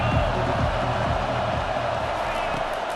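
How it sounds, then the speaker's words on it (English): A stadium crowd in the College Football 25 video game, Iowa vs Texas A&M, cheers with a steady, dense roar for the full span, with a commentator's voice heard over it. "third down as the crowd gets behind this defense."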